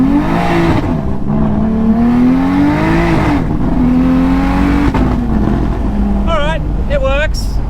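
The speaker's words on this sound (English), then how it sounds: "the exhaust sounds a bit funny with the windows closed." A single-turbo BMW F80 M3 with an 8-speed gearbox heard from inside the cabin with the windows closed: a loud, droning exhaust note rising and falling with revs, under people talking.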